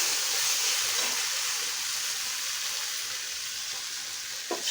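Pre-boiled dal tipped into a pan of cooked spices, sizzling loudly and steadily up close, with a brief louder burst near the end and no talking.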